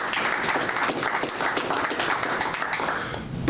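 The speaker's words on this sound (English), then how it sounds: "let's give them a round of applause as well" Sustained applause from an audience at a labor policy event, dense and steady clapping from many hands filling the whole stretch without pause.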